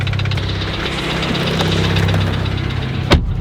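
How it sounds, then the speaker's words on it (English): Blown engine in an MK7 VW Golf R with rod knock: a steady, rapid metallic knocking over a loud, close idle, with one sharp clunk near the end. "You ever curious what rod knock sounds like? That's it."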